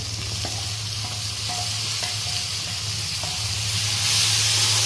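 Tomatoes stirred in a pan for aloo paneer curry, giving a loud continuous sizzle and hiss with light scraping taps from the spoon, the sizzle swelling near the end, with no voices.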